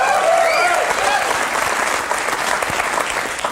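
A studio audience at a sketch comedy TV show bursts into dense, loud applause with a few whoops and whistles at the start, then settles into a steady clapping roar that eases slightly.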